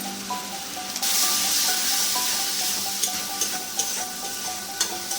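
Kashmiri red chillies and turmeric powder frying in a pan for an egg curry, with a steady sizzle punctuated by scraping stirs and occasional sharp taps of a spoon against the pan.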